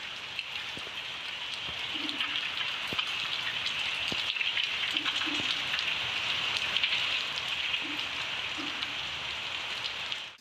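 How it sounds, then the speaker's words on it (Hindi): Heavy rain pours steadily over Karachi, a dense continuous hiss close by, with a few soft bird coos faintly in the background. "बारिश के बाद कई शहरों की शाहराहों पर पानी जमा हो गया।"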